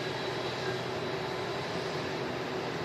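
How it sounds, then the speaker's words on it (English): Airbus A350 jet engines spooling up at Manchester Airport, a steady, dense roar with a faint tonal whine, heard continuously from a distance with no talk. "the A350 just spooling up now"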